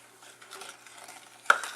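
Sugar stirred into a butter and flour mixture for apple pie, soft scraping swirls with a sharp utensil clink near the end, close and quiet.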